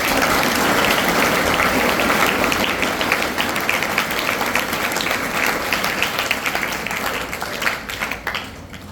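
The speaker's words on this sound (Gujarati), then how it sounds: "તાળીઓના ગડગડાટથી વધાવીએ." Thunderous applause welcoming a guest at a school entrance festival, a full burst of clapping from a crowd that starts loud and gradually thins out toward the end.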